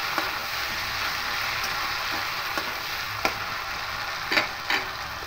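Ginger, garlic and green chili frying in oil in a pan for a Bengali mung dal with katla fish head: a steady close sizzle with a few light clicks of a spoon stirring against the pan.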